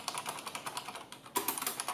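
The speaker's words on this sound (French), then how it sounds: "Mon clavier, c'est donc le Corsair Straff RGB en MX Silent" Someone types quickly on a Corsair Strafe RGB mechanical keyboard with MX Silent switches, producing soft, muted key clicks in a steady run, with a short pause and then a slightly louder burst of keystrokes.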